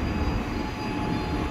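A KRL commuter train rumbles at track 2 of Juanda station in Jakarta, giving a continuous loud, broadband roar with a faint steady tone through the whole stretch and no voices.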